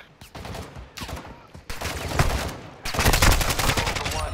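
Call of Duty gunfire, a string of sharp shots that builds from separate bursts into heavier sustained automatic fire, loud and close.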